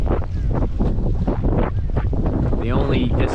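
Strong wind buffets the microphone on a fishing boat beside old pilings, a constant loud rumbling gust mixed with lapping water and a voice talking.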